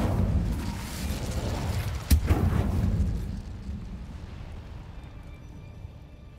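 An Incendio fire spell cast in Hogwarts Legacy bursts as a sharp, booming whoosh midway, rising out of a rumbling bed of combat noise before fading into a quieter tail.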